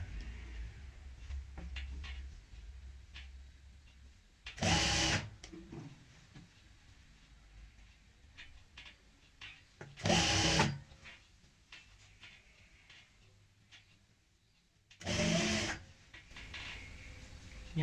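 A sewing machine stitches gharara fabric in three short, loud bursts a few seconds apart, with quieter handling noises and faint talk in the pauses.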